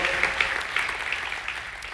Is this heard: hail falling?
no